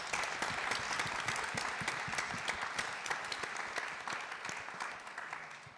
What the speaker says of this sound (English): let's give the candidates a quick round of applause.